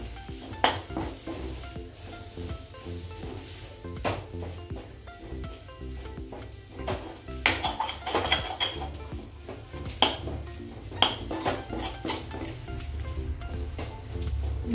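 A coriander paratha filling is stirred and mixed in a hot pan, with constant sizzling and repeated clinks and scrapes of a utensil against metal, close and busy throughout.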